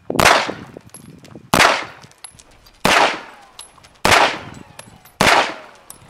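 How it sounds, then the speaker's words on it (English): Beretta 93R 9mm machine pistol with shoulder stock fired semi-automatic: five sharp, loud single shots spaced about a second apart, each with a metallic ring and a short decaying echo, no talking. "We'll start off semi-automatic mode, take it off safe, we'll use the same grip, and we'll fire a few rounds"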